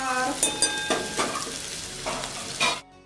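Sliced bitter gourd sizzles and crackles in a hot pan over a low flame, with a few sharp scraping stirs breaking up the steady frying hiss.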